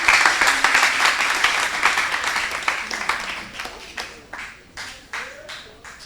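A school quiz-competition audience claps for the jury president, strong, dense applause at first that gradually thins into scattered, separate claps toward the end.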